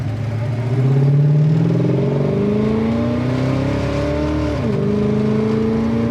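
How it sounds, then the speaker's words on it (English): A 1969 Plymouth Satellite with a slightly bigger cam accelerates hard through the gears, its loud engine note climbing steadily. There is a brief dip at one shift before the pitch rises again, close and continuous with no voices. "Go down through the gears."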